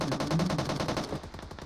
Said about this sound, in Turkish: buradan çatışma sesleri geliyor